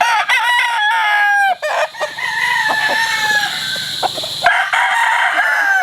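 A Kearney White Hackle gamefowl brood cock crows loudly and close, with several drawn-out crows and clucks from other fowl overlapping in a busy farmyard.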